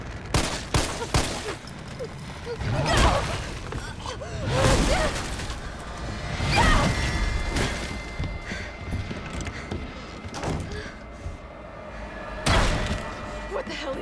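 Pistol shots crack repeatedly in Resident Evil 3, sharp loud bursts spaced irregularly across the stretch over a rumbling game backdrop, with someone talking at times.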